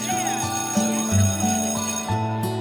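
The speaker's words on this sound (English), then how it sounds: "When the bell rings, I realize I've barely touched my meal." A bright electric school bell rings in a continuous rapid trill with repeating tonal pulses, loud and close, sustained for a couple of seconds.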